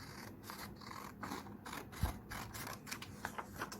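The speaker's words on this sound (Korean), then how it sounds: "위아래를 살짝 여유를 두고 가위로 도안을 오려내 주세요" Scissors cut out a paper template in a quiet room, a series of short, soft snips and rustles at a fairly steady rhythm, heard close and faint with no talking.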